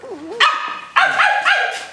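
A man in an acting class rehearsal imitates a dog, barking three times: loud, close, voiced woofs after a short whine-like tone, each bark sharp at onset and trailing off.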